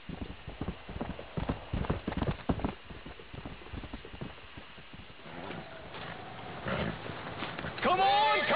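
A stallion's hooves clip-clop in rhythmic, close bursts in Red Dead Redemption, under voices talking, then the hoofbeats fade and a rising whinny-like tone and louder commotion come near the end.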